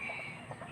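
Chickens clucking softly on a farm at feeding time, a faint continuous murmur of fowl sounds over a steady background hiss, with no distinct loud calls.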